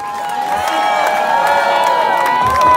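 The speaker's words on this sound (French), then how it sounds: "On peut les applaudir encore un maximum de bruit pour eux qui se sont battus." An outdoor crowd at a barbecue expo cheers and whoops for contest finalists, a sustained loud mass of shouting with a few high voices rising above it and a swell near the end.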